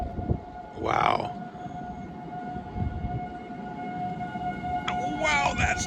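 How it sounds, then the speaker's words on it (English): Outdoor civil defense warning sirens wail steadily in the distance over wind noise, a sustained tone with a rising sweep near the start and again toward the end. "we'll bring it back in when the sirens are going off"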